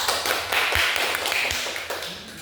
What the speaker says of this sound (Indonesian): mari kita berikan aplaus yang meriah